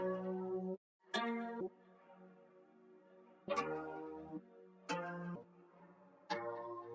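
Ukulele one-shots from a sample kit play a sparse top-line melody, several bright plucked phrases separated by short gaps, clear and alone with no voices.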